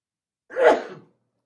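One person sneezes during a school board meeting, a single short, breathy burst heard alone against silence.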